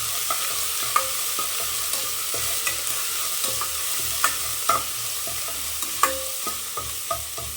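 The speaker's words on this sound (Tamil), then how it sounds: "இந்த எண்ணெயிலே போட்டு வறுத்துக்கோங்க" Mutton frying with ginger-garlic paste and curry leaves in oil over low heat, a steady close sizzle broken by scattered clicks and scrapes of stirring, with no voices.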